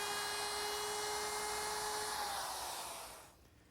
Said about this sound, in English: I'm going to use a 1/2 inch quarter round bit in my router with a guide bearing, which will ride against the edge